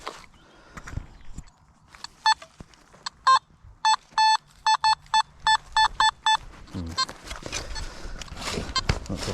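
A Nokta Makro Simplex Plus metal detector sweeping a Norfolk field gives a run of sharp, loud repeated beep tones in a regular rhythm, with rustling ground sweeps before and after.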